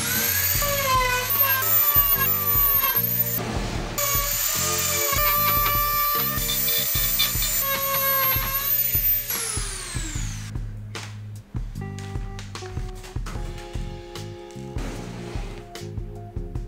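A power drill whines loudly and steadily while cutting intake holes in a repurposed wooden cabinet, its pitch shifting as the bit bites and slows, then breaking into shorter grinding bursts toward the end.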